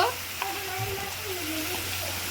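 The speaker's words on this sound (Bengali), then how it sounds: "দিয়ে ভালো করে আমি কষিয়ে নেব যতক্ষণ না কাঁচা গন্ধটা বেরিয়ে বেরিয়ে যাবে" Ground spice paste with salt and turmeric sautés in a pan for doi katla, a Bengali yogurt fish curry, giving a steady low frying hiss beneath a person speaking throughout.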